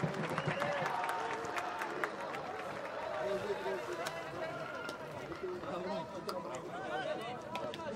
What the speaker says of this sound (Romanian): Aplaudat Marian Mihai de publicul prezent la această partidă.